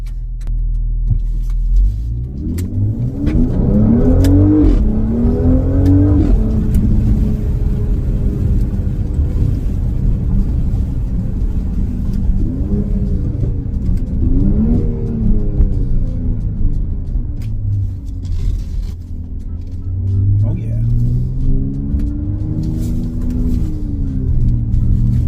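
A 2021 Mercedes GLC 43 AMG pulls hard with traction control off and Sport Plus mode on, its engine note rising through gears in repeated sweeping revs over a loud, constant cabin rumble, heard from inside.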